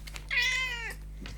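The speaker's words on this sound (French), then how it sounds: "Ah, c'est un chat." A single drawn-out cat meow, close and clear, rising then falling over about half a second, against a steady low hum with no talk.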